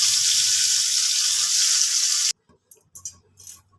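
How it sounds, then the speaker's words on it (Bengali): Bitter gourd pieces hit hot oil with a loud, dense sizzle that holds steadily for about two seconds, then cuts off abruptly, followed by a few faint clinks and scrapes. "এবার উচ্ছে ভাজবো।"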